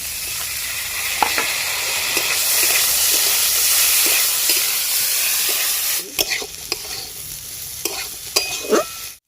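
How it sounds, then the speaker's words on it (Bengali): Chopped winter vegetables with capsicum and peas stir-fry in a pan for chicken fried rice, a loud steady sizzle with scraping stirs and clatters of the spatula, alone without talk. "ভালোভাবে নেড়ে চেড়ে ভেজে নিতে হবে যাতে এর মধ্যেই এই সবজিগুলো সেদ্ধ হয়ে যায়"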